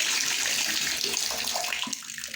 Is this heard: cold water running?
yes